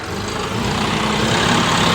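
Tractor engine held at 1500 RPM with the creeper gear engaged, running steadily and loudly close by as a constant low rumble with no talk over it.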